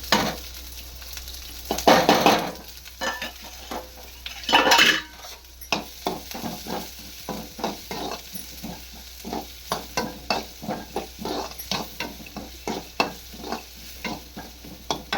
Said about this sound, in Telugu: ఇప్పుడైతే ఒక స్పూన్ ఆయిల్ వేసేసి ఉల్లిగడ్డ పచ్చిమిరపకాయ కరివేపాకు అయితే మగ్గిస్తున్నాను